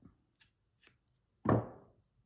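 Scissors cut embroidery thread up close: a few faint clicks and snips, then one clear, crisp cut that fades quickly, with no talking.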